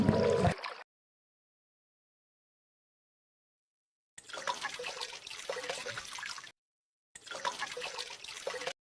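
Water splashes and trickles as an elderly grandmother bathes outdoors, soft irregular pouring and dribbling heard in separate stretches broken by gaps of silence.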